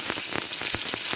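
Dried red chilies and chopped onion fry in hot oil, giving a steady close sizzle with a few sharper crackling bursts spaced about every quarter second.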